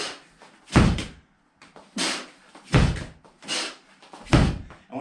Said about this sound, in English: grab the med ball, bang it out, hard and fast, 10 hammer slams